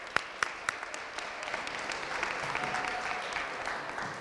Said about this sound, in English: Let's give a round of applause to our interns over there.